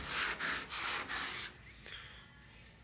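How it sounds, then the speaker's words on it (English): Sandpaper rubbing over a white guide coat on an automotive panel, rhythmic back-and-forth strokes that are close and steady and then soften into lighter scraping, with no talk. "Just sand away."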